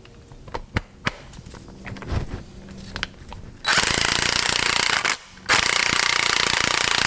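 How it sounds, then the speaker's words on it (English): An impact driver compresses a brake caliper piston against a wooden block, with scattered knocks and clicks followed by two long, loud hammering bursts separated by a short pause. "Take our impact driver and make short work of this."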